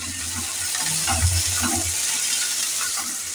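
Loud, continuous sizzling of green chillies, tomato and ginger paste being sautéed in a pan, with occasional stirring scrapes under the hiss, close up.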